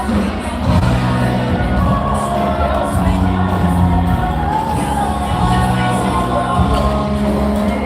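A loud crowd cheers and shouts at a rotating bar on Fremont Street on a Saturday night, with whoops and yells over music throughout.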